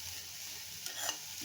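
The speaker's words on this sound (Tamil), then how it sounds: "அவ்வளோதான், ஒரு கிண்டிக்கலாம்." Black urad dal sundal with coconut being stirred in a pan, a soft scraping swish with a faint sizzle, close and quiet, building briefly near the end.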